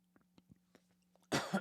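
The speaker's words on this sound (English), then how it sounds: "I almost freaking had a cough attack" Several faint throat sounds, then a loud, harsh cough burst close to the mic near the end, with a low steady hum throughout.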